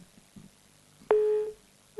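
On a radio call-in show, a caller's telephone line cuts off and a busy tone starts: a loud steady electronic beep follows a click, stops, and then sounds again, with a faint murmur beforehand.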